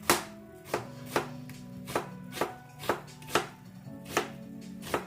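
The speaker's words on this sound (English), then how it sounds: "Onions are the most pesky part of this thing, if I'm being honest." Onions being chopped with a knife on a board for Bangladeshi-style fried rice, about ten crisp, evenly spaced chops in a steady rhythm over a faint background hum, close and clear with no talking.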